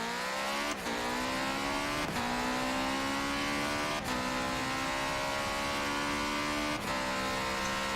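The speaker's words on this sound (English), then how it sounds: "Of course you can hear the engine, but the turbo's overpowering almost when you hear it through there." Turbocharged race car in Forza Motorsport 7 holding a loud, steady engine drone with turbo whine over it, a brief dip and shift roughly every two seconds as gears change, no voices.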